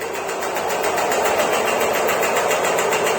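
A large wheel on a Yates American 32 inch bandsaw spins fast after switch-off, giving a steady close whirring hum with a rapid rhythmic pulsing and no voices.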